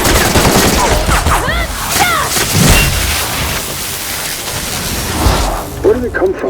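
Gunfire in the video game The Outer Worlds, dense bursts of shots and booms in a loud firefight, with voices talking over the shooting throughout.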